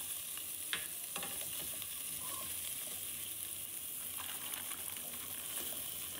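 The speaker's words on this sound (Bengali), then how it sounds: "এরপর আমি একই ঘিয়ের মধ্যে নারকেল আর মাখানাটাকে ভেজে নেব।" Coconut and makhana frying in ghee for a sabudana dry fruit soup, heard as a constant crackling sizzle with a few sharp stirring clicks, steady and close, with no voices.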